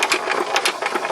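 An old hit and miss engine fitted with a bolt-on Sparkbox ignition runs nearby, giving a quick, regular train of sharp exhaust pops and mechanical clatter, close and fairly loud.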